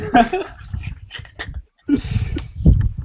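A dog whimpers and whines in short, high bursts mixed with panting, close by, while a person talks over it in a casual online hangout.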